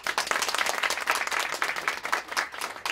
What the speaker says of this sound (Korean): 우리 박수 한번 쳐주십시오